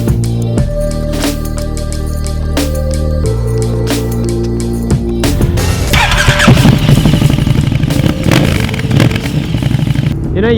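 KTM Superduke motorcycle engine on a race track, idling with sharp revs at first, then pulling away loud and close as the rider accelerates, with wind rush building under the engine note.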